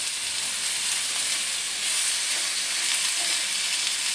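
Courgettes charring in oil in a pan, laid in a single layer, give off a steady, loud, close sizzle and crackle that continues without a break and with no voices over it.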